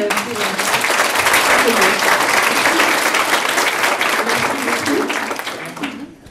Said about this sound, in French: Bravo, je vous demande de l'applaudir